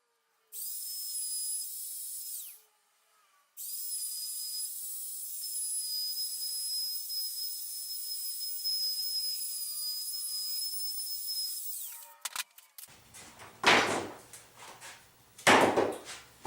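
A high, steady whine of a router trimming a granite or laminate countertop edge runs for several seconds with a brief pause, then gives way to scattered rough scraping bursts.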